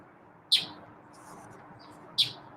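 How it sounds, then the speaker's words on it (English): A bird chirps loudly outdoors in the morning, two sharp, piercing calls about a second and a half apart over a faint, steady background hiss. "Man, Chirpy's loud this morning."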